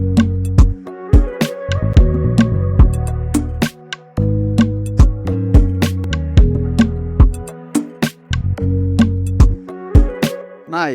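Afrobeat chord progression played on a bright synth pluck in FL Studio, with short plucked chords repeating in a steady rhythm over deep low bass hits, loud and close with no talking.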